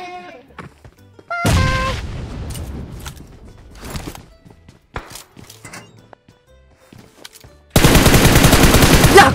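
Gunfire in the mobile game PUBG Mobile: a loud automatic burst early on, scattered single shots in the middle, then a long, sustained rapid-fire volley at the end, close and dominant.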